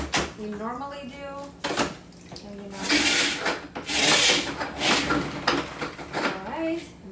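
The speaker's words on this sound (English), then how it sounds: "then I'm gonna scrub the floor" A replacement spin mop scrub brush for an O-Cedar EasyWring cleaner scrubs a floor with repeated rough rubbing strokes, close and fairly loud, while someone talks over much of it.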